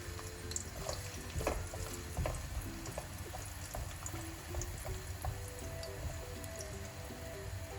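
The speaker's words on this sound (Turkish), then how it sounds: "İlk olarak havuçları kızgın yağda kızartıyorum." Faint steady sizzle of carrots frying in hot oil with scattered soft pops and crackles, continuous throughout, no voices.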